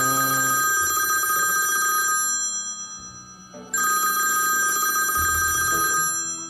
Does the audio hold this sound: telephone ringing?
yes